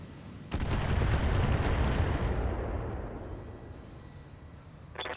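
Turret gunfire in the BattleTech mech game: a sudden loud burst of rapid rattling shots that slowly fades into a rumbling decay, then a brief sharp crackle near the end.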